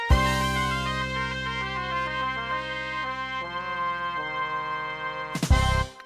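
Synthesized game-show style wheel-spin effect for a game jam, a bright tonal jingle of stepping pitched notes held for about five seconds, ending in a short bright burst.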